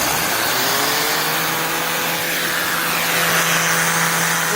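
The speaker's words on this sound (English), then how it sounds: "This thing is crazy taking off. That's turbo mode." A Shark Stratos upright vacuum in turbo mode runs loud and close, a steady roaring whoosh with a rising motor whine that holds throughout with no talking.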